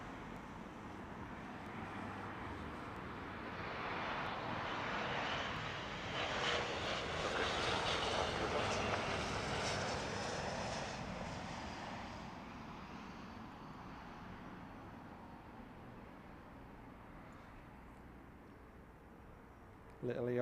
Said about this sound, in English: Little ERJ holding its own with the big boys here at Heathrow